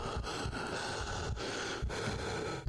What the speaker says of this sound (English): That breathing is super fucking loud.